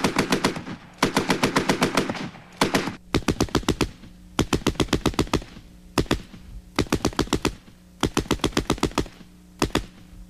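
A Browning Automatic Rifle chambered in .30-06 fires rapid automatic bursts of several rounds each, loud, close and sharply staccato, with short pauses between bursts and no talking.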